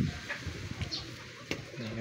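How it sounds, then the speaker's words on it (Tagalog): A racing pigeon of falcon line coos softly in a loft, a faint low murmur with a few scattered clicks and rustles close by. "Gandang kalapati."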